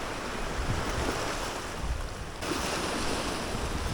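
Sea waves wash ashore on a beach at Montego Bay, Jamaica, a steady broad roar of surf mixed with gusty wind buffeting the microphone, with no voices.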